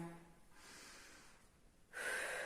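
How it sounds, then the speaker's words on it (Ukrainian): Soft breaths drawn in through the nose by children, then a louder airy exhale, close and quiet with no talking. "Носик вдихає, ротик видихає."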